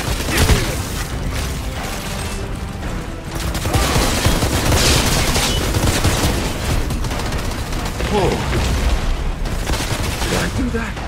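Dense gunfire in the sci-fi shooter game Outriders, with loud continuous bursts and booms heard close, while voices talk in the middle of the fight.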